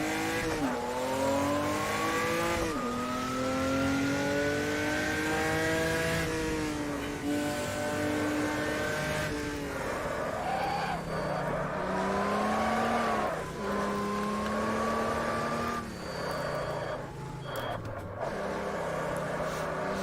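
A 1986 Opala stock car engine in Automobilista, driven on the Mending Flugplatz Bergschleife circuit, revs loud and close. Its pitch climbs and falls through gear changes with an H shifter, and it runs without pause for about twenty seconds.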